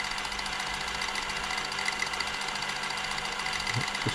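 A Silver/Pfaff 1139 sewing machine runs steadily on wide stretch stitch, giving a continuous, fast mechanical whir and rattle at close range, alone and without pauses.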